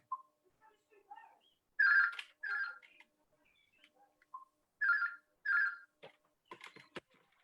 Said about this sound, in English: I have to switch off the phone here.